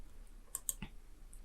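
Two or three sharp computer mouse clicks come in quick succession while a curve is drawn with the Photoshop pen tool, quiet and close against faint room hiss, with no voices.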